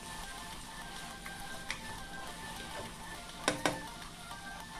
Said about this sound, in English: And we stir.